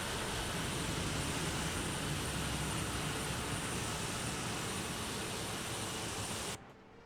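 Steady, loud drone of a C-47 propeller aircraft's engines near a runway, a broad continuous roar that holds throughout before cutting off abruptly near the end.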